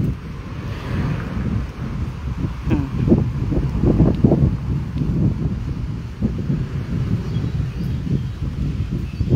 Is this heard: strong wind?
yes